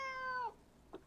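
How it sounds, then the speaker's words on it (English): A cat gives one drawn-out plaintive meow close by, followed by a brief softer sound, with no talking. "As you can tell from that plaintive meow"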